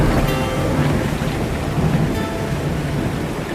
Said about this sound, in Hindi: लीजिए महाराज, वर्षा आरंभ हो गई।